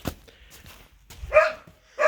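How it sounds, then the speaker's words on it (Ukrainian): A dog barks a couple of times nearby, short loud yelps among quieter rustling and faint movement, with no speech. "Чому вже песик гавкає?"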